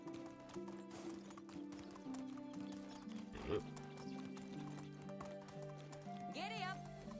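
Horse hooves clip-clop while riding in the game Medieval Dynasty, a steady rhythm under game music, with a brief louder thud midway and a whinny-like rise near the end.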